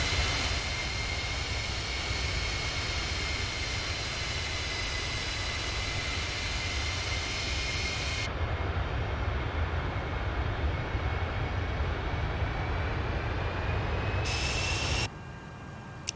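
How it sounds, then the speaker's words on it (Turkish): Loud, steady roar of MD-82 jet engines inside a flight simulator game, a broad continuous whine and rumble holding for about fifteen seconds before cutting down sharply to a quieter hum near the end. "Uçağımızın sesini açalım artık"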